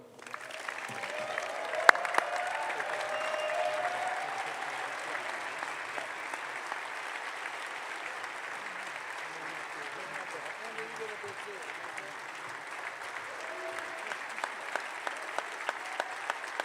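Steady audience applause welcoming the new Texas A&M men's basketball head coach, Bucky McMillan, sustained and even throughout with a few sharper claps, crowd noise filling the room.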